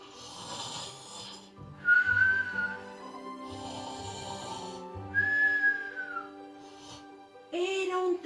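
At a puppet show, a voice imitates a dog's snoring with several loud whistling, wheezy breaths in a steady rhythm, close and alone.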